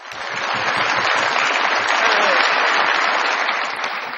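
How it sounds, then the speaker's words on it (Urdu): A studio audience at a comedy talk show applauds warmly. The dense clapping swells in, holds steady and thick, and then tapers off near the end. "بہت ساری تالیاں"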